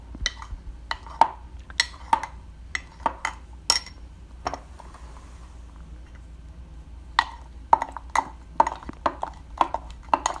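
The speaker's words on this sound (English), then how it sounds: "Then stir your hot cocoa bomb with a spoon." A spoon stirs a hot cocoa bomb in a mug, clinking against the sides in a steady run of sharp taps, with a quiet pause midway before the rhythmic clinks resume, close and alone.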